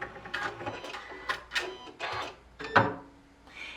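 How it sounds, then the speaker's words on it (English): A Janome Continental M6 sewing machine fires its automatic thread cutter, giving a few mechanical clunks and whirs followed by one sharper kerchunk near the end, close and moderately loud with no talk. "when we did cut that thread, you probably heard a kerchunk"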